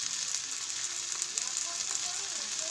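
Onions frying with salt and turmeric, a soft steady sizzle with faint stirring, fairly quiet and unbroken.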